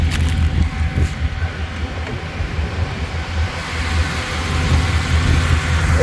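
A Dodge Dakota with a 5.9 engine idles with a deep, steady rumble. The sound is close and even, with a low throb and no voices.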